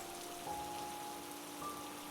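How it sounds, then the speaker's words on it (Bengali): Light drizzle patters faintly and evenly, a soft steady rain on a village night in a cartoon, with faint sustained tones lying beneath it and no voices. "একটু পরে ঝিরিঝিরি বৃষ্টি শুরু হয়ে গেল"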